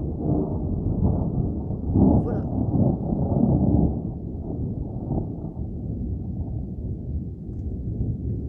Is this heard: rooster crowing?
no